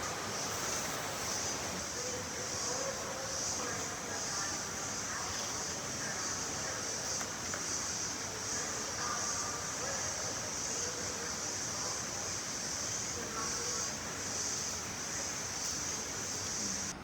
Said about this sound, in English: There's a stream right there.